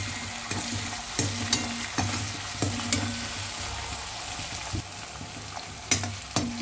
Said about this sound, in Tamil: இந்த பச்சை மிளகாய், சேப்பு மிளகாய் அது நெடி அடைஞ்சிற வரைக்கும் நல்லா கலரணும்.